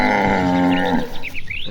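Cows in a herd grazing on a rice field moo, one long, loud, low call close by, followed by softer overlapping calls and rustling in open outdoor air.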